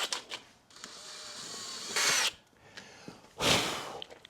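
Two short bursts of a power drill whirring, each lasting under a second, drilling out a bike rim valve hole for a Schrader valve, separated by quieter handling noise and clicks.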